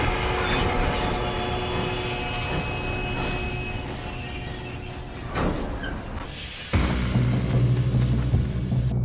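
A train in Red Dead Redemption 2 rolls past with heavy rumbling, metallic wheel squeal and sustained screeching tones, loud and close, followed by a sudden louder clattering surge toward the end.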